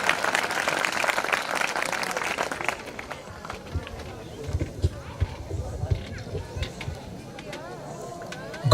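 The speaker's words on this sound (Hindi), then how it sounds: "एक बार जबरदस्त तालियां हो सकती है" An audience welcomes a company founder onto the stage with loud applause lasting under three seconds, then the clapping dies away into scattered noise, shuffling and murmuring voices.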